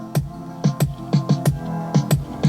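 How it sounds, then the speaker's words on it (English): An AI-generated reggaeton music track plays with a punchy bass-and-drum beat in the typical syncopated reggaeton rhythm, clear and upfront, with no voices over it. "I got a reggaeton track that AI generated earlier, it sounds like this."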